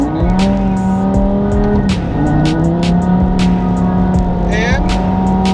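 A Lamborghini driving on an icy, snowy road during a snowstorm, its engine droning steadily up close with shifting revs and a few tire squeals, while a person talks over it.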